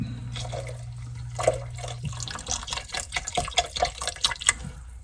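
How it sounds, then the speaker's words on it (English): Broth poured into a pot of vegetable soup, a short liquid trickle and splash, followed by a series of light clinks and taps from nearby kitchen handling. "I think I might need just a touch more broth. Let me do that first."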